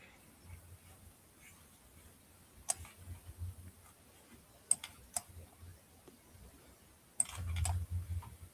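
Computer mouse clicks, sharp and fairly faint, come in a few isolated single and double clicks against a quiet room hiss, with a soft low rumble toward the end.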